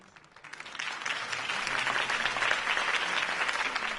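Rally crowd applause in Batman: The Telltale Series follows Harvey Dent's campaign speech, starting thin and swelling within a second into a full, sustained wave of clapping at moderate volume.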